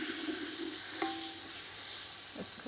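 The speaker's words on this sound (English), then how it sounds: "That's ginger and garlic paste that goes in. That's a nice sizzle." Ginger and garlic paste hits hot oil with onions in a pot over an outdoor fire for beef pilau, giving a steady close sizzle with a brief clink of stirring.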